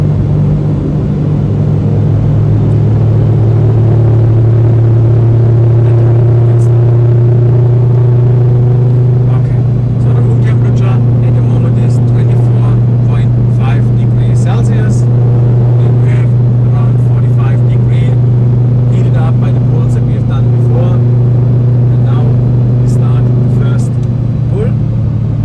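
An Audi RS3 8V with a 2.5 TFSI steel-block engine and TC870XT turbo kit making 700 hp runs on a dyno, giving a loud, steady low engine drone and rumble throughout, with people talking over it.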